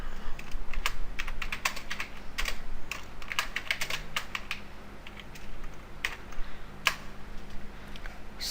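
Java code being typed on a computer keyboard, a close, rapid clatter of key presses in uneven bursts with no talk.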